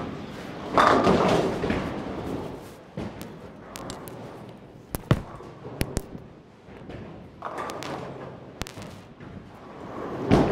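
Bowling balls drilled pin up roll down the lane and strike the pins, rumbling runs ending in loud crashing impacts that come several times, with little talk.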